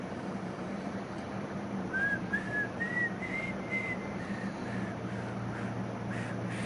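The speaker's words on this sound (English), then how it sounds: "Can you whistle it back to me?" Someone whistles a short melody inside a PS5 video game quiz, a thin rising and falling line of about ten notes over a muffled, noisy background with no talking.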